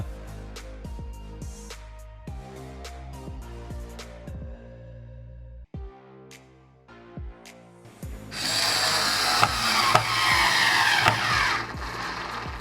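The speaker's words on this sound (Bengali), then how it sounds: "এরপরে ট্রাই করেছিলাম শক্ত প্লাইবোর্ডে স্ক্রু লাগাতে" A 4V cordless mini drill struggles to drive a one-inch screw into hard plywood, giving a run of sharp repeated ratcheting clicks, then a louder, rougher whirring grind.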